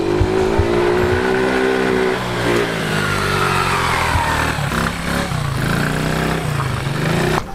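A sports scooter engine runs loud and close, revving unevenly with a buzzing mid-pitched drone that dips and surges, sounding as though it hesitates before picking up power.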